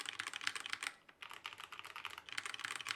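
Typing on a Redragon K552 mechanical keyboard with Aotemu red switches, rapid close clicky keystrokes in quick bursts with a brief pause near the middle, no speech.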